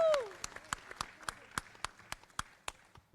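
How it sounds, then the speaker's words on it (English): Sparse, slow individual claps from an audience at a civil society forum, spaced about every quarter second with a brief tonal sound at the start and faint background murmur. "I think that deserves a much louder applause."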